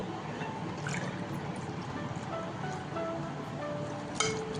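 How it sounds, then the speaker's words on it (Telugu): Two cups of water poured into a tea pot holding bay leaf and a cinnamon stick, a soft continuous trickle and splash heard close up, with a faint clink near the end. "2 కప్పులు వాటర్ వేసుకున్నాను."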